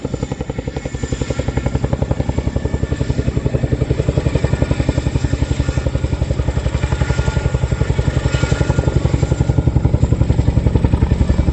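A Chinook twin-rotor helicopter departs backwards at an air display, its loud, steady rapid blade slap and turbine roar continuing throughout, close and dominant with no voices.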